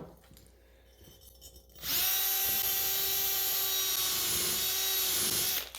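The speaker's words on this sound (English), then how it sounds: "that right there is one reason why I like these little drill attachments" A power drill with a cleaning attachment whirs loudly and steadily with a high whine after a quieter stretch of faint rustling, running continuously for several seconds.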